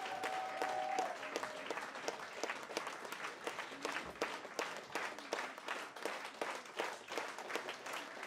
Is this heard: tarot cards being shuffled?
no